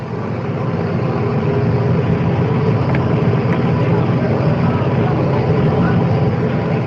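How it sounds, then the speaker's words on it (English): A loud, steady roar of aircraft engines and idling vehicles runs throughout, with a low rumble and a constant broadband hiss. "The sounds you hear are the sounds that surround the arrival of the plane and the automobiles."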